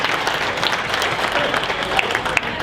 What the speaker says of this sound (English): Let's give you a round of applause for the hotel staff.